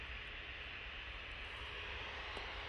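A KLM Boeing 737-800 on its takeoff roll at Manchester Airport, heard as a steady, distant engine roar with a broad hiss and no talk.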